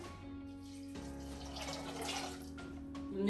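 Water poured into a pot on a stove holding hawthorn berries and cider vinegar, a steady close splashing stream that runs continuously and swells slightly near the end, with no voices.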